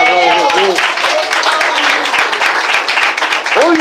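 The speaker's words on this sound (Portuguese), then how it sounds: "Bate palmas na glória de Deus." A church congregation claps during a Portuguese-language sermon: loud, dense clapping continues throughout, mixed with raised voices and calls from the people.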